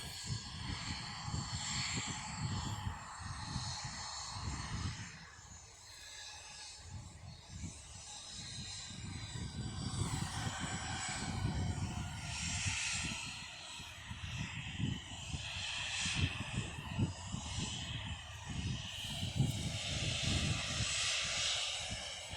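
A passenger jet resembling an Airbus A321 passes overhead after stormy weather, its engine roar long and continuous, swelling and easing over some twenty seconds at moderate distance.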